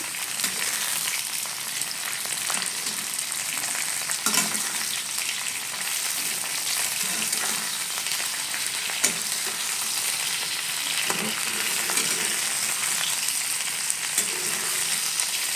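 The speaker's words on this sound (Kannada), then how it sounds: "ಇವಾಗ ಇದಕ್ಕೆ ಬೆಂಡೆಕಾಯಿನ ಆ್ಯಡ್ ಮಾಡ್ತಾ ಇರೋದು. ಇದನ್ನು ಇವಾಗ ಆಯಿಲ್ ಜೊತೆ ಮಿಕ್ಸ್ ಮಾಡಬೇಕು." Okra (ladyfinger) sizzling and frying in oil with onion in a pan for sambar, steady loud crackle throughout with occasional stirring scrapes, no talk.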